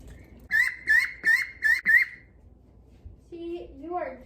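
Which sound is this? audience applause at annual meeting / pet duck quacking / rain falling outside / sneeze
pet duck quacking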